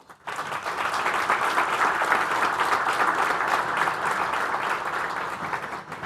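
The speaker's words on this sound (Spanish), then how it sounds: "Un aplauso para Luis Eduardo Escobar." An audience at a presidential debate on economic policy breaks into steady, dense applause that starts abruptly and holds at an even level for several seconds before tapering slightly.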